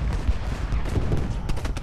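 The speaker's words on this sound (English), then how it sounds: "Cannons firing in everywhere" Cannons and rifle volleys firing in the Civil War game Ultimate General: Gettysburg, dense overlapping booms and cracks in a loud, continuous battle din with several heavier thumps.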